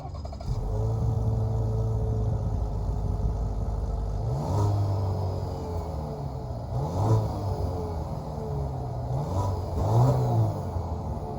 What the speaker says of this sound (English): that was, of course, the sound of the 2-liter Ecotec 4-cylinder engine offered by General Motors